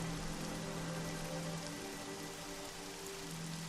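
Steady rain hisses through a Neverwinter Nights game scene, a constant soft wash of drops with a low tonal hum beneath, with no talk over it.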